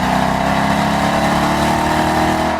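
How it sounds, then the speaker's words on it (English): A Dodge Challenger SRT8 Hemi V8 engine revving loudly and close, a rich, throbbing growl that holds steady with a slight rise in pitch. "Its Hemi V8 also makes the most sweet, caramely V8 noise of any car here"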